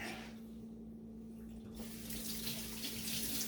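Tap water runs steadily into a kitchen sink to rinse potatoes for a beef stew, close by and continuous, growing louder and brighter partway through as the flow strengthens, with no voices.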